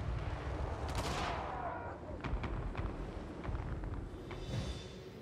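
Soldiers' gunfire in the Total War Warhammer 3 strategy game, with a burst of distant volleys followed by scattered sharp shots, faint beneath a low background rumble.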